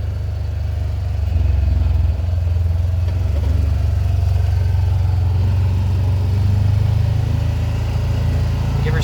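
A vehicle engine revving as it is given gas while driving off-road toward a ridge line, producing a loud, steady low rumble that swells slightly and holds for the whole stretch, with faint voices underneath.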